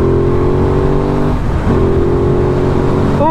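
An Aprilia Tuono 660 motorcycle engine pulls hard with a low-down grunt, a steady loud drone that briefly dips and then rises again as it accelerates, close and continuous with no talking.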